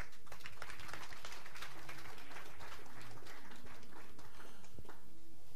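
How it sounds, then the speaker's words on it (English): Spectators at a women's 10m air rifle standing SH1 final applaud, a busy patter of many clapping hands, fairly steady and moderately distant, thinning slightly toward the end. "Come on, let's motivate the athletes with your applause"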